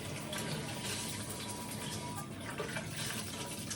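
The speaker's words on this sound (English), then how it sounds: "This is how you wash your clothes there in the toilet." Water churns and gushes steadily in a toilet bowl as a washcloth is washed in bleach water, a continuous close splashing wash that stays loud for a few seconds with no talk.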